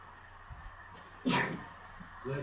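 A single sharp sneeze bursts out at close range, loud against a quiet background, then trails off.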